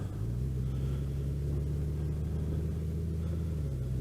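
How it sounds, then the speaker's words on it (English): A Honda Goldwing motorcycle engine running steadily with a deep, even, car-like hum and low rumble, held at constant revs and fairly loud throughout, with no talking. "I noted how similar to a car engine this engine sounds."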